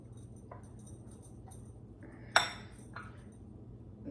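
A spoon stirs a powdered sugar and milk glaze in a bowl, giving quiet scraping and a few light clinks, with one sharper ring against the bowl, close and soft.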